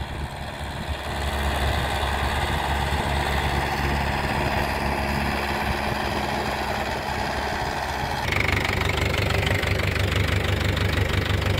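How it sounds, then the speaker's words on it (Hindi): A Mahindra Yuvo tractor ploughing a field runs with a steady, knocking diesel chug, loud and close; the engine note lifts and grows harsher toward the end, and no one speaks. "जुताई करते हुए महिंद्रा यूवो।"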